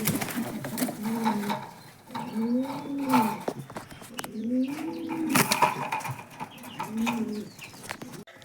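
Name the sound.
pigeons cooing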